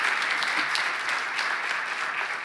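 Steady, dense audience applause fills a conference session hall, sustained and even throughout with no voices over it.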